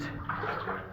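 Cold creek water splashes and rushes steadily close by, a brief continuous burst of churning water with a faint voice underneath.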